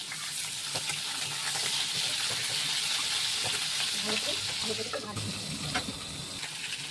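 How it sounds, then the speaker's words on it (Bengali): Pointed gourd (potol) frying in oil in a wok, a bright continuous sizzle with spatula stirring scrapes, while a person talks faintly in the background. "এবার আমি পটলটাকে একটু ভাজা ভাজা করে নেবো।"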